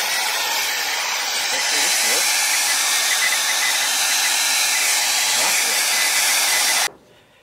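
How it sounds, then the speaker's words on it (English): A household hair dryer on its hot setting blows steadily on a car battery jump cable, a loud continuous whooshing hiss with a faint whine that runs unbroken for about seven seconds before cutting off abruptly. "I do have a hair dryer, though. I'm gonna use the hot side."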